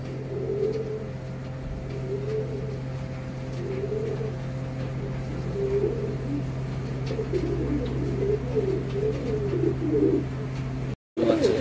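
Black Kormona pigeons, an adult pair, coo repeatedly in soft rolling phrases at a steady moderate level, with a constant low hum and faint background noise throughout.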